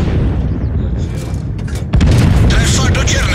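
A tank cannon shot and hit in the World of Tanks game lands as a heavy boom midway through, over rumbling engine and battle noise, with a voice talking throughout.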